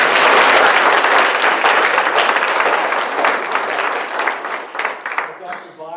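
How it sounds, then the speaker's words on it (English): An audience at a school district visit applauds students, dense and loud at first, thinning toward the end as a voice begins speaking. "Let's give them a round of applause."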